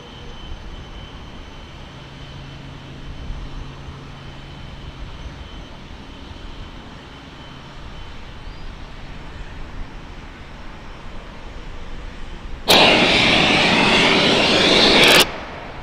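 SpaceX Ship 28's Raptor engines fire during a static fire test. A steady outdoor hum runs for a long stretch, then a sudden loud, broadband roar bursts in for about three seconds and cuts off abruptly.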